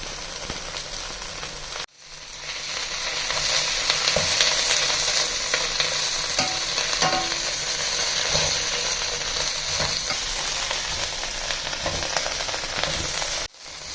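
Amaranth leaves frying in a pan for chutney give a steady, loud sizzle that runs almost unbroken, with faint stirring scrapes and a short cut near the start.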